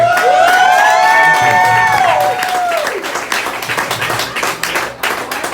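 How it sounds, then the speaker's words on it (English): Stand-up comedy audience bursting into loud applause and cheering for a Marine Corps veteran's first set, with rising whoops and shouts over dense clapping that then settles into steady, continuous hand claps. "For the record, second applause."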